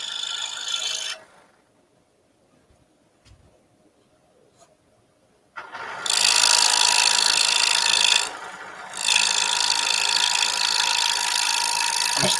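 A scroll saw fitted with a Flying Dutchman spiral blade cuts through wood, with a rasping buzz before a pause, then a loud, steady rasping cut that briefly dips and resumes.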